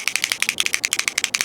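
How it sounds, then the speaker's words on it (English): Scissors snip through linked cheesy taco sausages in casings, a quick run of sharp, evenly spaced clicks close up with no talking. "So now we can go ahead and snip them all apart."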